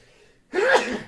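A single sharp sneeze after a brief quiet inhale, close and loud, with no talking.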